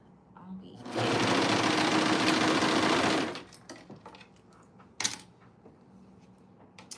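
A sewing machine stitches with an elastic foot in a rapid, steady buzzing run lasting about two seconds, close and loud, followed by quieter handling clicks and a sharp tap, with a voice speaking nearby.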